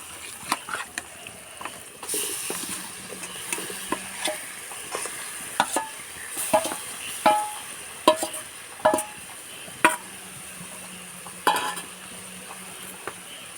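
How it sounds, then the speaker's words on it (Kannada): Marinated chicken for a pepper dry dish goes into a pan of fried onion and tomato, with a low steady sizzle under repeated scraping and clinking of a utensil against the pan, close and fairly quiet. "ಇದಕ್ಕೆ ನಾನೀಗ ಮ್ಯಾರಿನೇಟ್ ಮಾಡಿಟ್ಟಿರುವಂಥ ಚಿಕನನ್ನು ಹಾಕ್ತೀನಿ"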